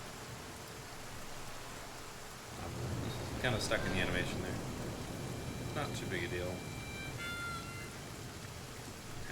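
Steady rain with a rumble of thunder in the video game The Flame in the Flood, a constant wash of noise that swells partway through while someone talks over it.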